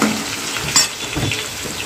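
Garlic fries with cumin in a hot pan, a brief continuous sizzle with a stirring scrape and one sharper clink, close and fairly loud, with no talking.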